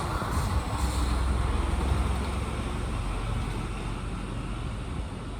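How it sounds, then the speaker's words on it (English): Road traffic passes outside a room as a steady, low, muffled rumble that swells slightly and then fades, with no voices over it. "so there's a bit of traffic going past outside."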